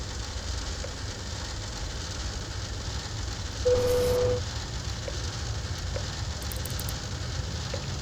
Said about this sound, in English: And now we got rain.